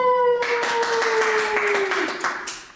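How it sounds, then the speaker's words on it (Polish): Applause breaks out after a prize is announced at a competition: many hands clapping steadily for a few seconds at moderate loudness, with a sustained tone underneath. "Oklaski."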